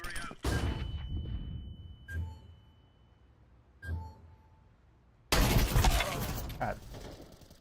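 An incendiary grenade thrown in Counter-Strike 2, with sharp bursts of shattering glass and impacts separated by quiet gaps, ending in a loud sustained crackling blast.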